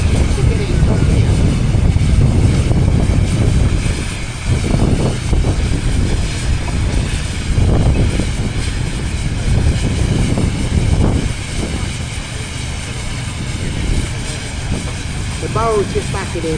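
A Fowler steam engine labours in top gear during steam engine games at Parham Park, giving a continuous heavy rumble with irregular clanks and thumps, with voices talking over it.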